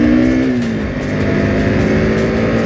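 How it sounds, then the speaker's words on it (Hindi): A motorcycle engine catches and settles into a steady, loud running drone with a brief rise in pitch at the start, heard up close with no talking. "मैं करता हूँ बाइक को स्टार्ट"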